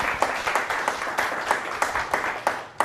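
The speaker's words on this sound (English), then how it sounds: "Can we please give him a round of applause for being here?" An audience at a business conference applauds steadily, many hands clapping in a dense, continuous patter that fills the room, with no voices over it.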